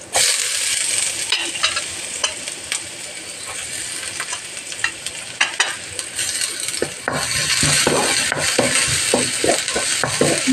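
Chopped onion added to ginger already browning in a pan of crab fat, with a loud, steady sizzle and hiss, irregular scraping stirs, and a burst of stronger crackling and stirring toward the end.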